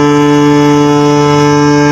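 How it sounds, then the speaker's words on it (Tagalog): A China Coast Guard ship sounds its horn in one sustained, very loud blast, a steady deep tonal blare with strong harmonics and no break or speech. "marinig nyo kung gaano kalakas na naman ang pagbusina nila"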